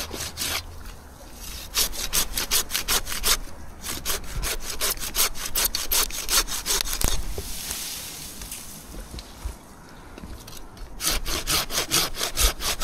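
A hand saw cuts through a fir stem during a pruning cut, with rapid, rhythmic rasping strokes in close, loud bursts, briefly pausing midway before the steady back-and-forth sawing resumes.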